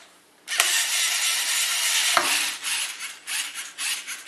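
A Lego spinning-top launcher whirs into action with a sudden loud rasping spin-up, a continuous gritty whirring that holds steady, then wavers and pulses as the top spins on, close and alone.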